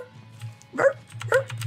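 A small corgi puppy gives two short, high yappy barks, close by and fairly soft, with a faint whimper before them.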